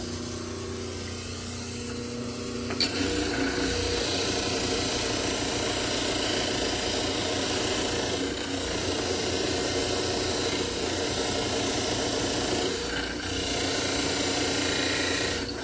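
A dental model trimmer grinds steadily against a plaster study model, a continuous loud whirring rasp with a brief sharp catch near the start and slight dips as pressure shifts.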